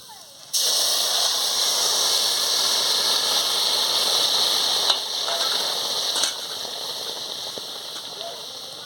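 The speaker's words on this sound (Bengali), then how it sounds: "এবারে ডাল সাঁতলাল দেবে" Boiled dal is tipped into a hot leaky pot of fried onion and dried chilli tempering, bursting into a sudden loud, steady hissing sizzle that runs for several seconds and eases slightly near the end.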